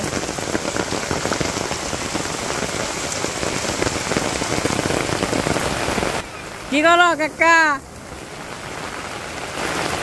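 Heavy rain falls on a Bangladeshi village as a constant, close, roaring hiss, with a man's short spoken question breaking in near the end.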